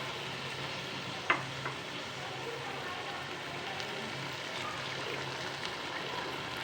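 Desi ghee sizzles in a pan of cooking carrot halwa, a faint, even frying crackle with one sharp clink near the start, continuing quietly throughout without talk.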